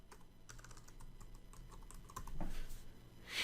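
Rapid keystrokes on a computer keyboard while entering text into a spreadsheet cell, a steady close patter of clicks with a slightly louder burst near the end.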